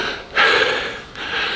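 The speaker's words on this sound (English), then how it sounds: "Just the breathing again." A strongman breathes heavily after a lifting set in a gym, loud close gasping huffs in two rough bursts separated by a brief pause, with no talk over them.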